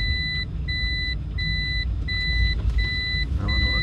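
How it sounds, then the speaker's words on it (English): A Toyota hybrid car reverses on battery with no engine noise, just a low rolling rumble of tyres and a steady repeating two-tone reversing beep. "Just reversing back."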